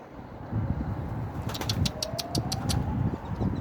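Pigeons on a rooftop during a flight of youngsters and a blue bird make soft low cooing close by, with a few sharp higher chirps or clicks in the middle and no talking.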